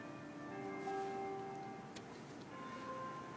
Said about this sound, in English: there's the bells, by the way. I know you can hear them in the background.